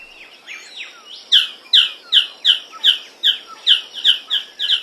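A male magnificent bird of paradise calls from low forest bushes, starting with a few scratchy notes and then a loud, steady series of about nine sharp, evenly spaced chirping calls, close and clear.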